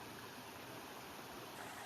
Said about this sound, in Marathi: इथनं हा तो वॉटरफॉल, काळ वॉटरफॉल.